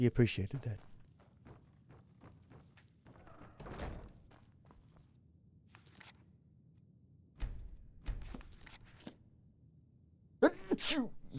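A game character in Enderal sneezes sharply, a short close burst near the end, amid quiet footsteps, door thunks and a brief spoken line earlier.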